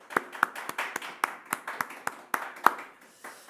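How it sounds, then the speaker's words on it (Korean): In a Korean church service, a small group offers sparse applause to thank a deaconess, a handful of distinct sharp claps arriving in an irregular rhythm and fading near the end. "우리 한 권사님 너무 감사하다고 박수로 한번 격려하겠습니다."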